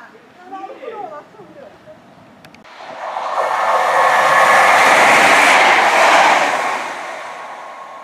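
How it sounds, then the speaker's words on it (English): A CrossCountry train from Bristol Temple Meads to Manchester Piccadilly passing through Ashchurch for Tewkesbury station: someone talks briefly, then a rising rush builds loud and steady as the train sweeps through, easing off near the end. "passing through now is a cross-country service from Bristol Temple Meads to Manchester Piccadilly"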